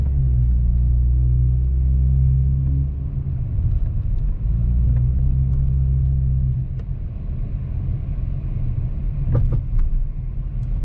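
Worn sway bar links on a 2013 Dodge Challenger clunk as the car rolls over bumps, several dull knocks heard from inside the cabin over a steady low road rumble and engine drone.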